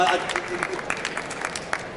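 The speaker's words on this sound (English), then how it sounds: "Give a round of applause" Scattered clapping from a small audience at an education technology event, brief and moderately faint, with separate claps standing out over a low background hum.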